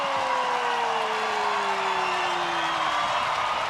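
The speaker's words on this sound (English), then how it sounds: "the crowd goes wild" A crowd at a breaking battle in Paris erupts into wild cheering and whoops, a dense sustained roar filling the space with a falling tonal sweep over it, loud and continuous throughout.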